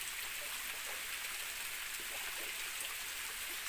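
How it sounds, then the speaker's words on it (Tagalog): Cumba Falls, the lone waterfall in Mabini, Batangas, gives a steady, even rush of falling water that fills the scene without a break. "Ito lang po yung nag-iisang falls po dito sa Mabini, Batangas."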